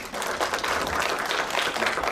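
An audience at a startup M&A panel session applauds as a venture capital panelist is introduced, a steady, moderately distant wash of many hands clapping with no talk over it.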